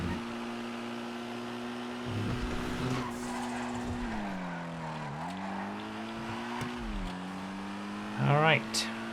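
Compact cars race in the video game GTA FiveM, engines droning and shifting pitch as they accelerate, with tires squealing and skidding at close range and a sharp screech near the end.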